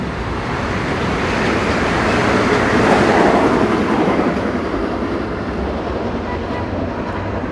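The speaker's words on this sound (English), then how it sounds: "There's the Metro North." A Metro-North commuter train rumbles past in the Bronx on a January day, a broad steady roar swelling to a peak and slowly easing away amid street noise.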